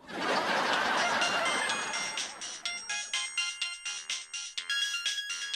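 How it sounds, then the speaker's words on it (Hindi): A phone ringtone for an incoming call repeats in a steady pulsing melody, loud and close, with no talking over it. It follows a dense burst of background music. "बार बार फोन आ रहा है"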